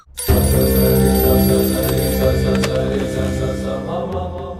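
A telephone rings loudly and continuously, a bright buzzing bell tone that starts abruptly and holds steady for several seconds with no voices over it.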